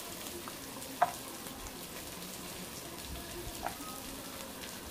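Carrot pieces and beans sautéing in a pan for vegetable biryani give a quiet, steady frying hiss, with a couple of brief clinks standing out.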